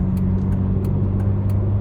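Inside a truck cab on a busy motorway, a steady low road and engine drone hums throughout, with faint periodic clicks above it and no speech.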